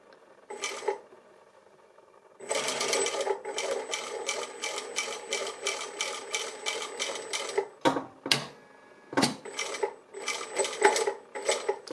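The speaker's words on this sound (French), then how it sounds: "Arrivé au bout, il va falloir venir piquer jusqu'à la pointe." A sewing machine stitches a rat-tail cord right up to its tip. It runs in rapid bursts of close needle clatter, with short pauses and a few sharp clicks between runs, and no one speaks.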